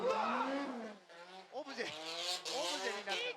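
A D1 drift car crashes and spins, with tire squeal and engine whine heard under loud excited commentary throughout.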